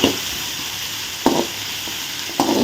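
Chopped onions, green chillies and curry leaves fry in a pan with a steady, close sizzle, broken twice by a louder hiss and scrape as the mixture is stirred.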